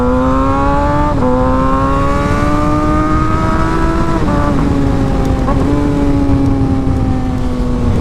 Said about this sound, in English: the bike just sounds so mean, and it's so smooth